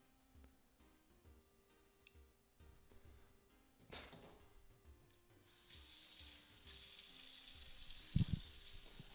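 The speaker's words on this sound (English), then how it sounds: "We don't need the hand washing captured on audio" Hands are washed at a kitchen sink under a running faucet: quiet clinks and movement first, then the tap opens into a steady splashing stream, with a brief louder knock near the end.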